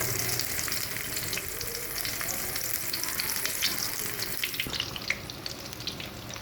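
Potato chapli kababs sizzle steadily in hot oil in a pan over medium heat, a dense continuous crackle with a faint watery tap or sink sound in the background.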